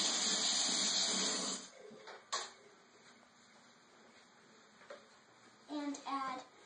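Water runs from a kitchen tap for a couple of seconds while a mixing bowl is rinsed during cookie baking, then cuts off, followed by quiet clinks and a voice.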